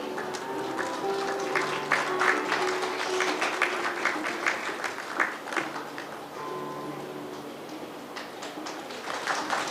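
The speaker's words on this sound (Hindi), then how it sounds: "ताली ताली।" A crowd claps for prize winners announced at a spoon-race picnic event. Scattered, moderately loud applause runs through, with a voice speaking over it at times.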